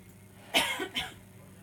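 A person coughs twice in quick succession during a guided relaxation exercise, close and fairly quiet in an otherwise calm room.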